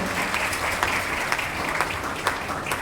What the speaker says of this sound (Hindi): एक और बार जोरदार तालियां कीर्ति और जिंसी के लिए।